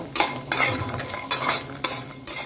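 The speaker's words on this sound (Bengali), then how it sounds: "কড়াইয়ের মধ্যে তেল গরম করে নিয়েছি এর মধ্যে প্রথমেই আমি একটু বড়ি ভেজে নিচ্ছি" Lentil dumplings (bori) frying in hot oil in a wok, loud and close, with a sizzling hiss and four sharp scraping strokes of the stirring spoon against the pan, no talking.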